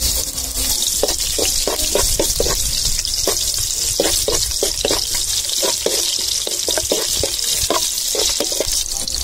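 Loud, steady sizzling of frying in sesame oil, a constant hiss with repeated clinks and scraping of stirring on top.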